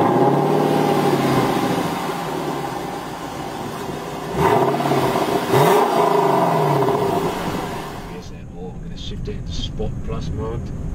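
A 2017 Lexus LC 500 sports coupe's engine starts and then gives two sharp, swelling revs at close range, settling back to a steady idle while a voice speaks over it.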